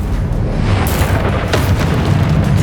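An Incendio fire spell cast in Hogwarts Legacy, a loud, deep, rumbling whoosh of flame with a bright burst partway through, sustained for a couple of seconds.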